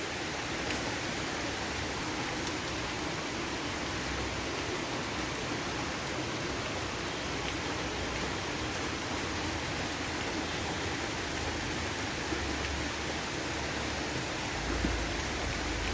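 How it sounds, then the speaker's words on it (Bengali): Heavy rain falls steadily outside a home in a continuous dense hiss that holds even throughout, with no voices. "ভালোই জোরে বৃষ্টি হচ্ছে।"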